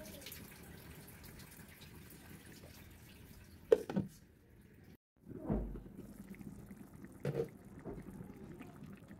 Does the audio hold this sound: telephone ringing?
no